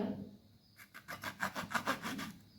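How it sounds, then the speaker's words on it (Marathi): A knife slices through eggplant in a quick series of rhythmic, rasping cuts, close and fairly faint, with a brief pause before the chopping begins. "आता आपण वांगे चिरून घेऊया"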